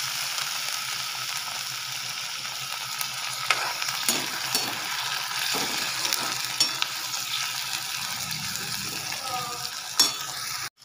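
Onion and tomato frying in a pan for katval bhaji, a steady broadband sizzle with occasional stirring scrapes and clicks throughout, close and moderately loud, no talking.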